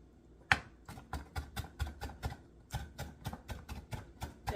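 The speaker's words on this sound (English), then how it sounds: "I'm going to cut them up even finer." A knife chops carrot finely on a cutting board, about fifteen sharp, close knocks in a quick, fairly even rhythm after a louder first strike, with no talk.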